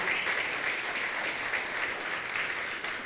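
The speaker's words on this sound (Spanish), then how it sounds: "este aplauso es para ustedes también" Steady applause from a church congregation fills the space, dense and even throughout, with no voices rising above it.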